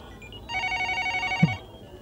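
A telephone in a 1992 Hong Kong TVB drama rings once in a steady, loud electronic burst lasting about a second, with a soft thump near its end and quiet room tone around it.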